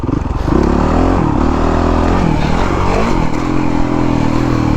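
Honda CRF 450 dirt bike engine at a track, loud and close, holding a steady throaty drone with rising and falling revs and gear changes throughout, no talking.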